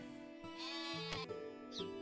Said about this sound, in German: Also die Schafe haben schon eine interessante Geräuschkulisse, ne?